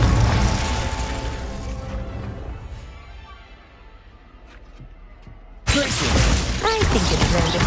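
Confringo blasting spell from Hogwarts Legacy: a loud burst of crackling, shattering explosion erupts near the end after a fading magical rumble, close and forceful.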